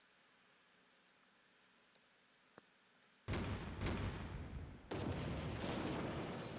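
Battleship gunfire hits from the Battleship Chess video game arrive after a few soft clicks as two loud, sustained booming bursts of explosion and rumble, the second following a brief dip.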